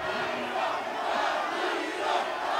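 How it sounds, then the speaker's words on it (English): A wrestling arena crowd at an NWA Mexico match roars and chants in a dense, sustained wall of cheering that swells slightly midway. "You can hear the crowd coming up"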